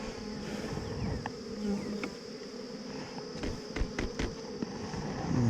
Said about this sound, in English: Man, I love these bees.